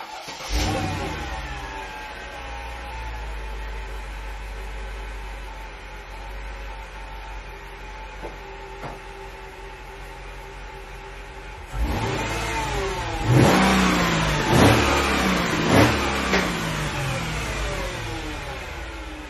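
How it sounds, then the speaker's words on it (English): A Mercedes ML55 W163 with side pipe exhaust and no muffler idles with a loud, raw drone, then revs hard several times in sharp bursts near the close, with no talking. "we're going to see how it sounds like with no muffler there"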